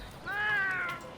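A single soft, drawn-out cat meow from the Monster Hunter video game, heard alone at low volume.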